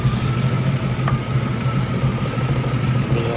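A 1974 Plymouth Duster's engine runs steadily at a low idle, a close, loud, even rumble with a faint tick near the middle.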